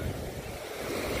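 Surf rolling onto a seaside beach, a steady broad wash of breaking waves with wind buffeting the microphone, continuous and fairly loud with no voices.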